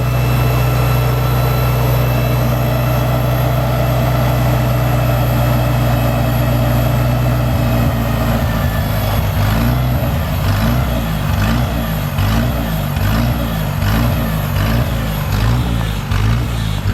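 A loud Farmall Cub tractor engine runs steadily, and from about eight seconds a Surge milker's rhythmic mechanical pulsing sets in, beating regularly over the engine drone.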